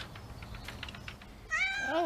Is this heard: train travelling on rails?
no